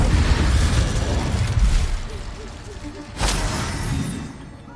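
An Incendio fire spell is cast in Hogwarts Legacy, a deep roaring burst of flame that fades and then flares again with a second whoosh, heard close and loud amid game effects.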